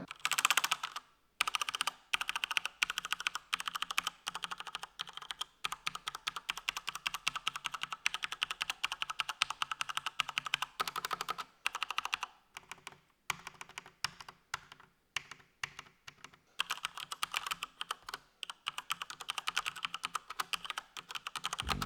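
Rapid, continuous clicking of keys on a Cougar 700K EVO mechanical keyboard, close up, with brief pauses between bursts of typing.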